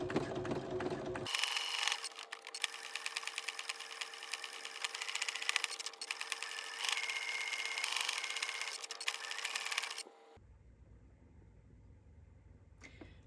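Sewing machine doing free motion embroidery, sped up, humming in a continuous fast whir for about ten seconds before stopping, close with no talk.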